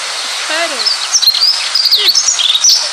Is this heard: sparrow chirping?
yes